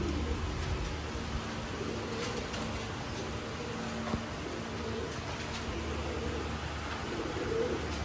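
Pigeons at a Sialkot pigeon-keeping loft coo steadily, soft low throaty calls repeating over a constant hum of fan-like background noise, with no talking.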